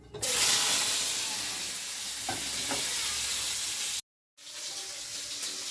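Okra (ladyfinger) frying in a pan with chili powder, salt and turmeric gives a continuous loud sizzle and hiss, cut briefly by a moment of silence before the sizzle resumes.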